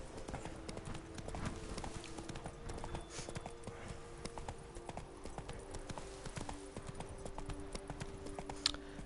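Hoofbeats of Roach, Geralt's horse in The Witcher 3: Blood and Wine, a steady clip-clop gallop that runs throughout under a low hum of game ambience.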